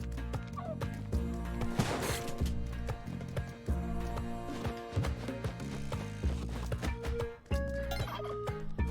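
Turkeys gobble amid busy video game sounds, with dense layered effects, clattering hoofbeat-like thumps and bursts of noise running throughout, and the gobbling is mixed into the game audio rather than heard alone.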